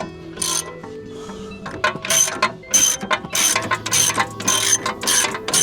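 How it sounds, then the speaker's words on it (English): A ratchet cracks loose a control arm bolt on a Mk1 Audi TT 225, close and loud, with repeated bursts of rapid clicking in uneven strokes separated by short pauses. "now it's time to get this one cracked loose"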